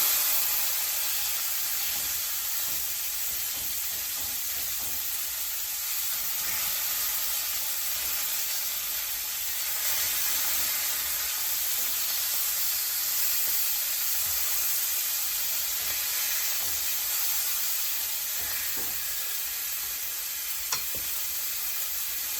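A steak sears in a hot pan after being flipped, giving a steady, bright sizzle and hiss that continues evenly throughout, with no voices over it.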